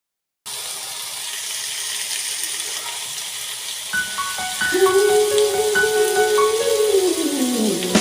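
Chickpeas and minced meat fry in a pan while being stirred, a close sizzling hiss that starts after a brief silence, with a sustained tonal whine and clinks joining midway.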